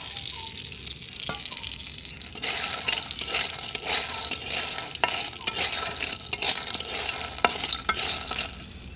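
Greens fry in oil in a pan, with a constant close sizzle and regular scraping clicks from a stirring spoon. No voice is heard.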